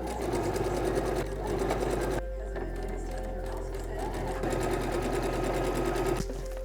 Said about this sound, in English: So I've sewn in the button stand